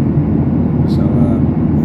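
Steady cabin drone of a Lion Air Airbus in flight from Solo to Jakarta, a loud continuous low roar filling the whole clip without a break.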